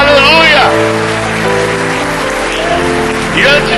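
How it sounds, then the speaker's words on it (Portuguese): A church congregation stands and applauds during a morning service, broad clapping under loud music and a voice. "fique em pé agora e aplauda bem forte o Senhor nessa manhã"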